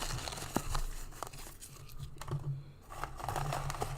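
Small paper cups folded over and over crinkle and rustle close to the microphone in irregular bursts, with soft clicks and taps scattered through and a short quieter gap.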